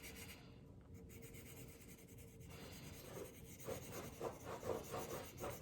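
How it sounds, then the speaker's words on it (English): The side of a pencil shades across paper in a soft, dry scratching rub that grows louder and more rhythmic toward the end, close and alone with no talking. "And I'm still using the side of my pencil."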